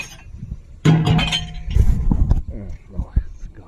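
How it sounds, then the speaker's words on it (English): Glass bottles thrown away for recycling, clinking and clattering together in a short close burst with bright ringing tones, followed by some rustling, while a person talks nearby. "I want to throw away a little bit of glass"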